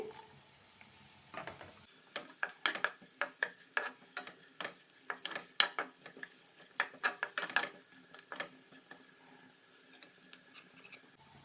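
Chopped green chili goes into a frying pan for palak paneer fried rice, followed by a run of light scraping and stirring clicks with a faint sizzle, steady and close.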